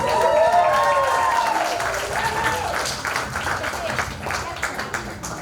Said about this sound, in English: A loud, loud round of applause.